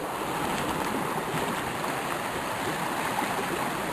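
Water flowing in a brook near a stone wall on a foggy day, a continuous close rushing and gurgling wash with no pauses.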